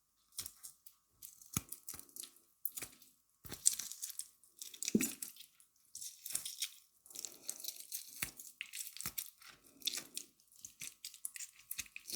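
Cooked chicken being pulled apart by hand for a salad, heard as close, irregular soft tearing and moist squelching bursts with short pauses between them, and no talking.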